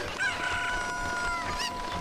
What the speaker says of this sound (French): pourtant tu fais cocorico